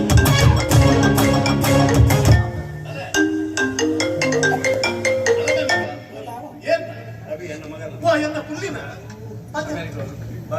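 A phone rings with an incoming video call during a Tulu comedy stage play, playing as a melodic ringtone tune alongside music and stage voices, loud and continuous before dropping back under the talk.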